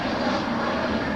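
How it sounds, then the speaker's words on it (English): A fixed-wing airplane on a diverted flight path passes low over a residential neighborhood, producing a steady, loud engine roar that fills the whole moment with no talk. "They come overhead at sometimes every 90 seconds or so. There's a plane."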